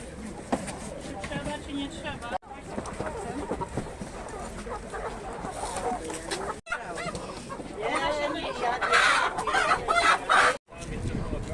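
Chickens cluck and a rooster crows amid the busy crowd at an outdoor animal market in Lublin, with people talking constantly over the birds and the noisy bustle close around.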